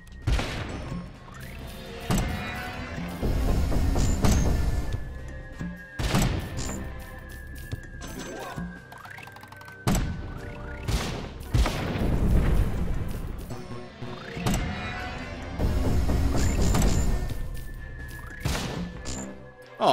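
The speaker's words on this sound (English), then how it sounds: "I'm focusing way too much on just trying to get these grenade shots right." Grenade shots and explosive impacts from the video game Cannon Brawl, loud bursts of crashing booms and rattling fire recurring in waves with brief quieter gaps between them, no talk over the action.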